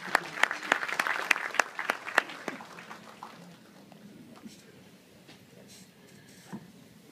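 Scattered, sharp hand claps ring out from an audience welcoming a speaker at a formal event, a handful of distinct claps at first, then tapering into faint, sparse clapping.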